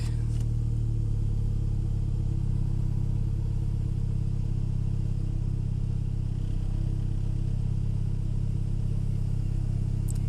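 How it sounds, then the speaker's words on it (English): A Toyota Celica ST162 with a turbocharged engine idles and revs gently while the oil warms, giving a close, steady low rumble that swells slightly without sharp peaks. "Give her a little rev here and see where the oil pressure goes."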